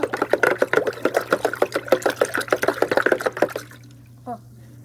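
A spoon spins water around a bucket into a whirlpool, making a rapid rhythmic churning and sloshing that runs steadily, close and loud, over a low hum before stopping abruptly.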